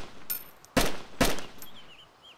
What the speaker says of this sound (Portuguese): Vou dar uns tiros ali na moitinha